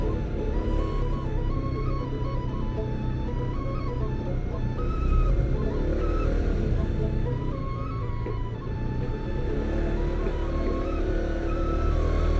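A motorcycle weaving through dense traffic on the road from Denpasar to Ubud in Bali makes a steady low engine rumble with wavering pitch as the throttle rises and eases, mixed with road and wind noise.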